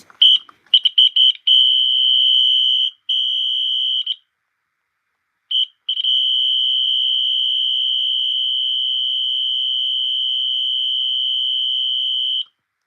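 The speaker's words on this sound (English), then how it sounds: "This is the Wheelock NS." A Wheelock NS fire alarm sounds loudly up close, a piercing continuous high tone that stutters on and off at first, breaks off for a short gap, then holds steady for several seconds before stopping.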